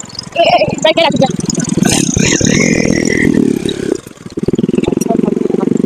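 Motorbike engine chugging nearby with a rough, pulsing idle that briefly drops off before resuming, with voices talking over it.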